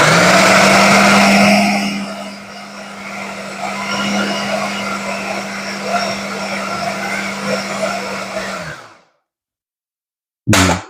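Food processor grinds and chops lettuce wrap filling, a loud whirring motor hum that drops in pitch as it loads, runs steadily, then stops, followed by silence and a brief restart at the end.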